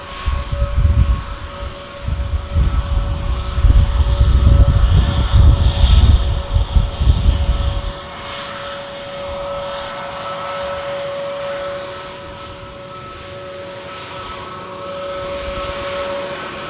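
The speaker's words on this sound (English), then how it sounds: "Arriving in from Istanbul, Turkish Airlines, A321neo." A Turkish Airlines A321neo arrives at Manchester Airport, its engine roar loud and rumbling for about eight seconds before dropping to a quieter steady hum with a faint high whine, and no voices.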